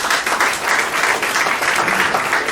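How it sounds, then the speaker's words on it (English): Dense, loud applause rolls through the audience at the Goa Technology Association awards night, many hands clapping continuously in an even, sustained burst. "Please give him a round of applause"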